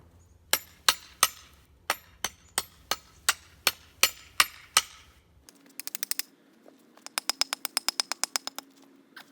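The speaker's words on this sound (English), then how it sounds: "I'm going to try this other hammer." A hammer strikes repeatedly while septic tank risers are being fitted, first a steady series of about a dozen sharp, evenly spaced blows, then a faster rattling run of lighter taps, close up and crisp.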